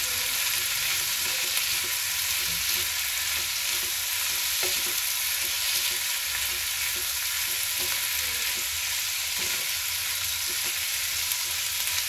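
A tomato, onion and garlic chutney with black pepper fries in a pan, giving a dense, steady sizzle with soft stirring scrapes throughout and no talking.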